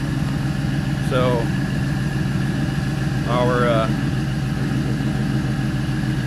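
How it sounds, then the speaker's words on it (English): A running LS V8 engine settles into a steady idle, its low, even rumble continuous throughout, with someone briefly talking over it twice. "our idle is settling down nice"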